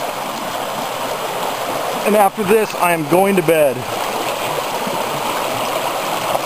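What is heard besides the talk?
river flowing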